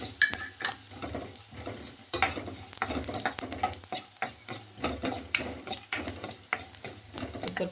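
Whole spices such as cinnamon, clove, cardamom, coriander and cumin frying in a little oil, sizzling and popping close up while a spoon stirs in quick, rhythmic scrapes.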